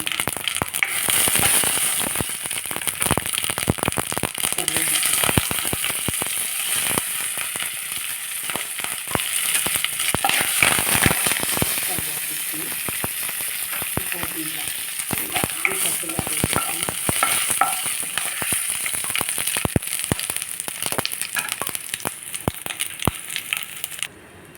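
Mustard seeds tempering in hot oil for dondakaya (ivy gourd) pachadi, a steady dense sizzle with scattered sharp spluttering crackles, close and continuous throughout.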